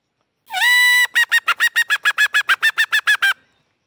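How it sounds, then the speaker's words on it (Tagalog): A red junglefowl (labuyo) rooster crows nearby, loud and alone: one long drawn note followed by a rapid run of about fourteen short, evenly spaced pulses, then silence. "Siya lang talaga yung nagtitilaok"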